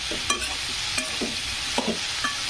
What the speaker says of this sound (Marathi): अशानं आपली भेंडी एकदम मऊ मऊ होते आणि शिजली जाते, म्हणजे फ्रायच होते